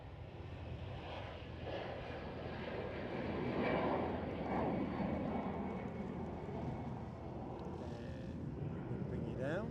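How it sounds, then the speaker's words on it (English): Airbus A380 on its takeoff roll at Glasgow airport: a distant, steady jet engine rumble that swells and fades gradually, faint and heard from outdoors with some background noise. "We've got one going out on its takeoff roll now."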